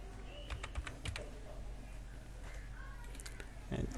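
Computer keyboard typing on a PC, scattered quick keystrokes in short clusters close to the microphone, with someone speaking over part of it.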